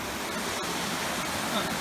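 A river swollen after several days of heavy rain flows near the Jomon caves, giving a steady rushing wash at moderate volume without any talk.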